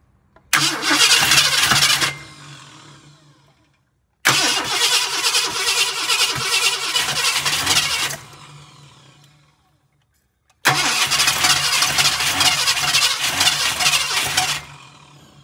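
A 1966 Ford Galaxie with a 7-litre engine cranks and catches three times in a row, each start a loud rumbling burst lasting a few seconds before cutting out, separated by brief silences, close to the microphone.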